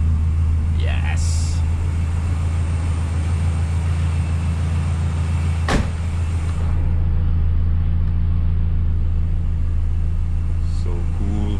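A 2006 Proton Savvy 1.2i idles steadily just after starting, a loud continuous low engine rumble with a brief sharp click midway and faint background sounds.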